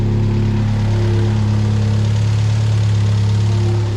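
A freshly reassembled car engine idles steadily and loudly close by, with a deep, even hum and no voices.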